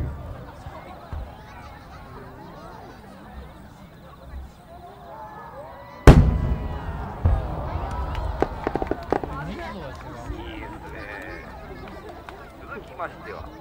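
One sharp firework bang bursts out at the Aganogawa Gozareya fireworks festival, followed by scattered crackles and pops over murmuring voices in the background.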